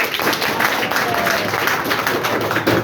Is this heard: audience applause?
yes